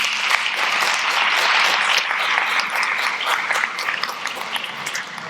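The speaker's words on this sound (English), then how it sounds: "let's give our panelists a round of applause." Sustained audience applause for the panelists at a cannabis-testing safety panel, a dense, steady wash of many clapping hands filling the room and easing slightly toward the end.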